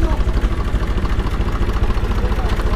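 An antique 1996 Swaraj 855 tractor engine idles with a steady, low, even chugging pulse, close by and alone.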